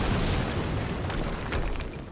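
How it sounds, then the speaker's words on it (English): A blast in the game Quantum Break, a dense, rumbling boom that roars loudly and decays slowly into a low crackling wash, with no talking. "we just heard an explosion near the harvesting perimeter"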